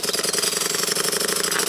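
Cotswold Heritage Cirrus model beam engine, eccentric-driven rotary valves, running on steam from a Stuart 501 boiler, gives a steady rapid mechanical chuffing and clatter, loud and close with an even repeating beat and constant hiss.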